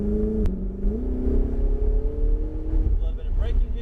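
Supercar on a race track accelerating hard, its engine note rising steadily and loud up close inside the cabin, with a brief gear change before the pitch climbs again; a person talks over the engine.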